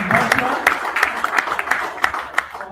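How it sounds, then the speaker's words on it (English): An audience at a tech meet-and-greet gives the participants a round of applause, steady clapping spread across the room with sharp individual claps standing out and some crowd noise beneath. "I would also like you to give a special round of applause to you, the participants"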